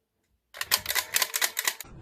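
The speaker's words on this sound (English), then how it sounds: "The click on this is actually satisfying me." After a brief silence, a video game controller button is clicked over and over, around ten sharp, close plastic clicks in a quick, slightly irregular burst that stops abruptly.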